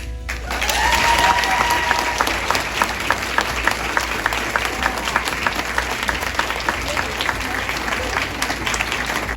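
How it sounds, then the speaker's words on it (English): Applause welcomes the naming of a new school principal at a teacher in-service gathering: a loud swell of many hands clapping that peaks early, then settles into steady, dense clapping from a crowd with some voices mixed in. "that announcement was welcomed with quite the applause"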